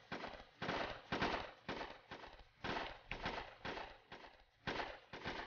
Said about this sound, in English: That's a lot of gunshots.